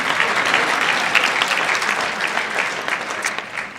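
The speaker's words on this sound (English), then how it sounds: "And you can clap." An audience at a community swearing-in ceremony for an assemblymember applauds, a dense, steady burst of clapping from many hands that carries on for several seconds and tapers off slightly toward the end.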